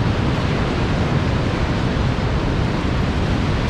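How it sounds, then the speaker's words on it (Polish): Large sea waves breaking on the coast of Lofoten, Norway, a loud continuous roar of surf with a wind-like rush and no voices. "Czekać, bo są duże fale."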